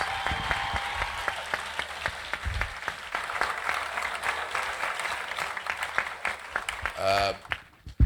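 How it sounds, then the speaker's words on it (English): An audience applauds steadily for several seconds, a dense patter of clapping that thins out near the end as a voice begins to speak. "Give him a resounding round of applause."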